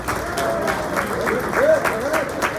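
An audience applauds newcomers at a Good Morning Corona community gathering, a few seconds of dense, steady clapping from a crowd filling the room, with a voice speaking over it.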